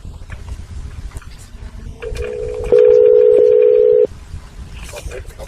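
A steady telephone line tone rings out loud and alone for about a second and a half as a call is put through and transferred, framed by quieter background noise and talk before and after.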